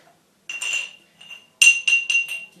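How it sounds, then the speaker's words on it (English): A solid rock clunks against the inside of a glass jar, giving a short glassy knock followed by a quick series of ringing clinks, close and sharp with silence between them. "you hear it, it's clunking the glass, it clunks the table"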